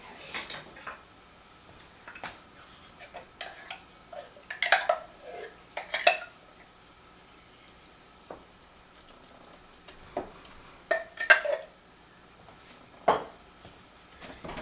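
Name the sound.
chopping pork roast into smaller pieces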